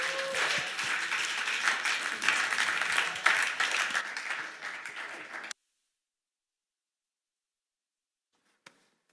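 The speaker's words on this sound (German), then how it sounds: "Lasst uns doch Jesus einen Applaus geben" Church congregation applauding, a lively burst of many hands clapping for about five seconds that fades, then cuts to near silence with one faint knock near the end.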